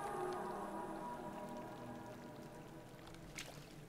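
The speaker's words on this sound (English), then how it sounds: "How safe can this really be with water flowing down the stairs?" Water pours down a staircase in a video game, a faint steady wash of flowing and splashing water with a few light drips and a soft tap near the end.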